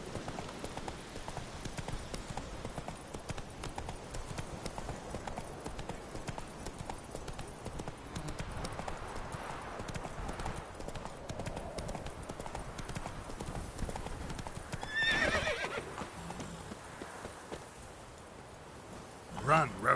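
Hoofbeats of the horse Roach galloping in The Witcher 3: Wild Hunt, a steady clip-clop rhythm running throughout at moderate level, with a brief voice and game sounds near the end.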